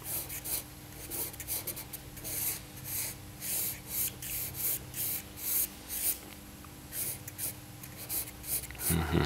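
A pencil drawing on paper for an icon study makes rhythmic scratchy strokes, repeated back-and-forth hatching in steady bursts, close and clear, with no talk over it.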